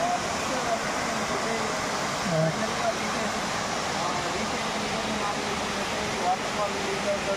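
Water rushing at Pilligundam waterfall in dense Mangi forest, Thiryani, a steady broadband roar filling the whole clip at constant loudness, with a few faint tonal sounds in the background.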